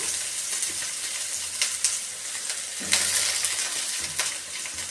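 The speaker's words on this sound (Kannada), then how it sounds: "ಫಸ್ಟ್ಲಿ ನಾನು ಗ್ರೀನ್ ಚಿಲ್ಲಿ ಹಾಕೋತೀನಿ." Green chillies fry in hot oil in a kadai, giving a steady close sizzle with a few sharper crackles and stirring clatters, no voices over it.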